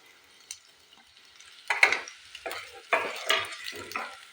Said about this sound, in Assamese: পিঁয়াজখিনি অলপ ভাজি ল'ম।